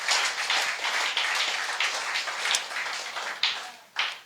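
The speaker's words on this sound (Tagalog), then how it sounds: "Lahat ng naniniwalang mga anak, pumalakpak ng malakas sa Panginoon." A church congregation claps loudly during a Sunday service, producing a dense, sustained patter of hands that swells and briefly fades near the end before a final burst.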